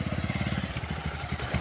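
A motorcycle engine idles close by with a steady, throbbing low pulse that shifts slightly in pace, running alone without talk.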